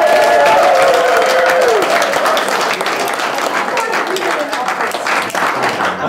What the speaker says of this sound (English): can you please give more than one clap, more than two clap, give them a shout, give them a cheer